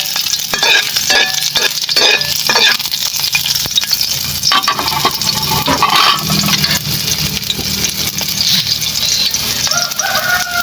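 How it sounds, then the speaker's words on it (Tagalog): Onions fry with egg in a hot pan, giving a loud continuous sizzle broken by clinks and scrapes of stirring up close, with a rooster crowing faintly in the background. "Ipirito pa natin ng sibuyas."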